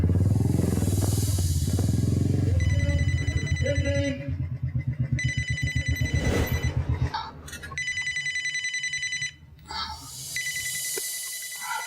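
A telephone rings in repeated electronic bursts with short gaps between them, loud and close, as a low rumble and some clatter carry on underneath.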